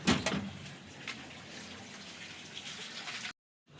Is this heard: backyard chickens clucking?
no